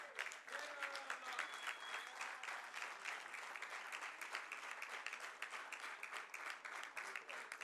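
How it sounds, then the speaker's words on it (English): Sustained applause from the audience at the MCHI-CREDAI 33rd annual general meeting in 2015, a dense, even wash of many hands clapping that continues without pause, heard from within the room. "So, the thunderous round of applause should go on."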